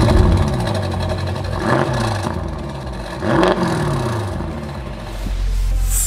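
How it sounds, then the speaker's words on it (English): A 720 bhp Stage 2 Audi RS6 engine cranks and catches, then revs up and down in several rising and falling sweeps with a rough, clattering idle between. "As you start the engine"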